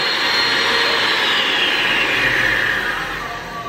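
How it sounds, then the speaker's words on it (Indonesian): Electric hand mixer whirring continuously as it beats pukis cake batter made with one egg, a loud steady high whine that eases off slightly at the end as the mixer is stopped. "Ini sudah cukup baik mengembangnya, maka saya akan stop mixernya."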